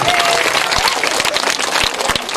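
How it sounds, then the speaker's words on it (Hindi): Audience at a school annual gathering inauguration breaks into applause, a loud, dense wash of clapping with a few sharper individual claps, sustained throughout with faint voices underneath. "तालियां।"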